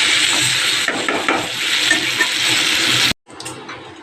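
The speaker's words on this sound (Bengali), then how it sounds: "এই যে মশলা দিয়ে দিয়েছি, দিয়ে সব একবারে কষাচ্ছি নুন হলুদ দিয়ে।" Pointed gourd being stir-fried in a pan with spices, salt and turmeric, giving a steady close sizzle and stirring scrape for about three seconds before cutting out to a quieter hiss.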